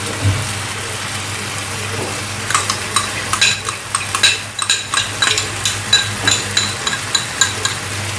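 A spoon stirs food frying in a pan while cooking lasagne filling, a steady sizzle underneath with a run of repeated scraping stirs that begin partway through and continue in a regular rhythm.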